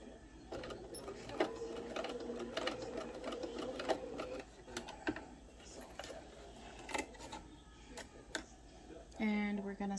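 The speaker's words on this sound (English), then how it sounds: "we're going to do a couple stitches forward and in reverse as well" A sewing machine stitches a fabric mask from a Cricut pattern, running forward and then in reverse in short, rhythmic bursts of mechanical ticking and whirring up close, with a faint voice in the background.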